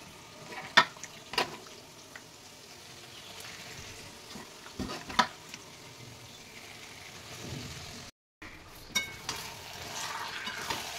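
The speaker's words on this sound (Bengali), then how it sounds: "ভালো করে মশলার সাথে মাংস ভালো করে কষাতে হবে" Marinated chicken with spices fries in a pan, giving a soft, steady sizzle broken by intermittent scraping and clinking stirring strokes, with no talking.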